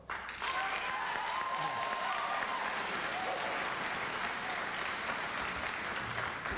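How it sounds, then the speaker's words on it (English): Sustained applause from a large audience at a 1994 Massachusetts Senate debate between Ted Kennedy and Mitt Romney fills the whole stretch, loud and even, with faint voices mingled in. "You're clapping after every response."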